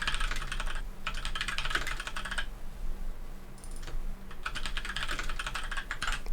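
Typing the project name on a computer keyboard, heard as two bursts of rapid, close key clicks separated by a brief pause, over a low steady hum.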